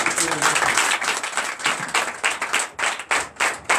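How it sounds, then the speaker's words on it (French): A church congregation at a Sunday worship service claps in a loud, steady rhythm, sharp hand claps repeating close and clear, with voices mixed in among them. "Donne l'acclamation à Jésus."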